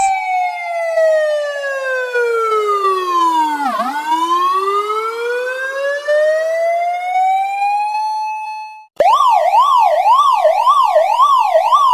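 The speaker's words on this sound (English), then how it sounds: "This is an ambulance." An ambulance siren wails loud and close, sweeping slowly down and back up, then switches abruptly to a fast repeating yelp.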